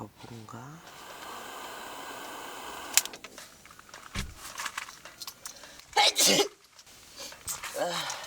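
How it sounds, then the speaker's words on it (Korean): A person sneezes once, loudly and close, inside a tent on a rainy solo camping trip, preceded by rain-pattering background and followed by rustling and speech. "재채기 한번 했는데"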